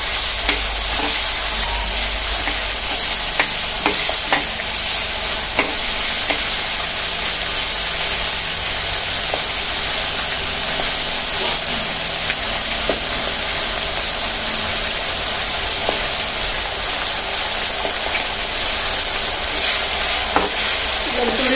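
Curry leaves frying in hot oil for a red chilli pickle give a loud, dense, continuous sizzle with crackling spits, heard up close and alone for the whole stretch, with a faint low rumble underneath.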